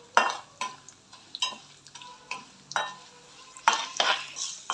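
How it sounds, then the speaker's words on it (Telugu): Urad dal and chana dal fry in oil while a spoon scrapes and clatters against the pan in irregular strokes over a faint, steady sizzle, close by. "ఇలా వేపుకున్న తర్వాత మినపప్పు, శనగపప్పు వేయించుకోవాలి."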